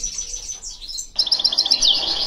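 Constantine goldfinch singing up close, a loud run of bright chirps and twittering trills that speeds into a dense, rapid warble.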